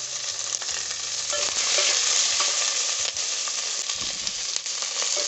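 Garlic, onion and capsicum are stir-fried quickly in a hot pan, giving a loud continuous sizzle with scraping and stirring clatter close by and no voices.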